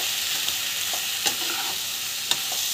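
Onions frying in a pan with chilli, turmeric and coriander powder, a steady bright sizzle with a few soft stirring scrapes and taps, close and alone.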